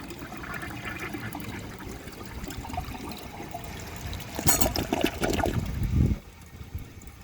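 A 1957 Kilgore Atlas toilet flushes, steady trickling water swelling into a loud rushing surge near the middle, then gurgling and cutting off abruptly.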